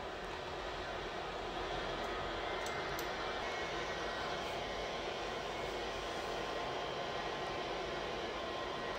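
A steady, loud Airbus A350 jet engine roar in the Roblox game Pilot Training Flight Simulator fills the whole clip, a continuous broadband drone with no pauses and no talking.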